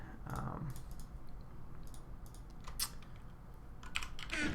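Keys clacking on a mechanical keyboard in short irregular bursts of crisp clicks, close and fairly quiet over faint room hiss, with a louder flurry at the end.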